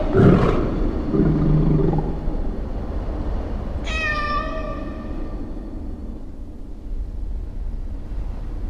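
A cat creature in the Waltz of the Wizard VR game lets out one drawn-out, wavering meow, clear and fairly close, after a brief burst of activity and before a low steady hum.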